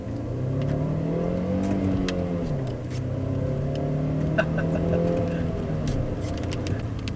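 Manual-transmission car accelerating through the gears, engine pitch climbing, dropping at a shift, then climbing again, heard from inside the cabin with a steady road roar underneath.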